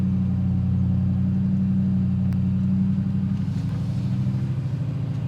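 A 2024 Ford 6.7 Powerstroke diesel pickup tuned to 587 wheel horsepower pulls up a slight grade out of a shop, its engine a steady, loud low rumble that pulses as it accelerates, with no talk over it.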